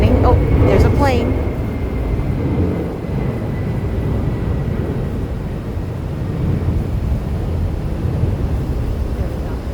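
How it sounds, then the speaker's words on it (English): An airplane flies near Honolulu airport, a loud, steady low roar that fills the whole clip. A voice speaks briefly at the start over the engine noise and wind. "Oh, there's a plane."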